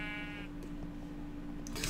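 A sheep bleating in Minecraft, one short quavering bleat at the start, then a quiet steady game background with a brief sound near the end.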